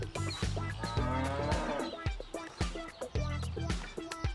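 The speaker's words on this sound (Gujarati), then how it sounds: "ત્યાં જો દૂર બધી ભેંસ ત્યાં આટા મારે છે બધી." Buffaloes on a Canadian ranch low with long, resonant calls repeated several times, fairly clear over soft background sounds and occasional short knocks.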